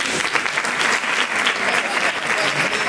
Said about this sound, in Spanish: pido un fuerte aplauso para Antonio Jiménez.